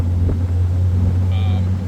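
A 1963 Austin Healey 3000 Mark II BJ7 exhaust drones steadily with a low, even rumble while riding, heard from inside the car with some wind noise.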